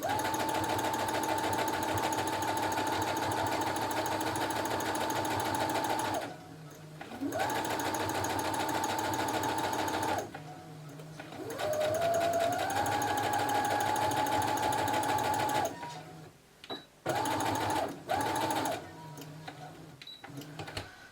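A sewing machine stitches a sleeve in long runs of fast, steady mechanical whirring. It stops and starts several times, with brief quiet gaps and short bursts near the end.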